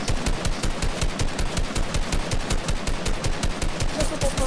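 Rapid automatic gunfire from a video game, likely a battle royale shooter, in a fast, continuous, evenly spaced burst of loud shots.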